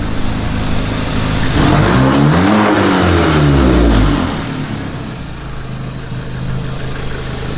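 A straight-piped VW MK7 GTI with a CTS Turbo catless downpipe starts up close and loud, rising in a rough, raspy rev that swells and falls back before settling into a steady, burbling idle.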